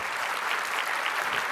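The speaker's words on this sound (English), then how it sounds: "Big round of applause." A brief burst of dense crowd applause at a keynote event, even and sustained from start to finish with no voices over it.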